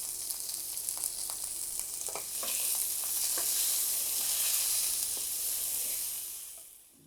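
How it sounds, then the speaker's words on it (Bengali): Peeled boiled eggs, scored and salted, fry in hot oil with turmeric, giving a steady bright sizzle that swells slightly midway and then fades away near the end. "ডিমগুলো ভাজা হয়ে গেছে"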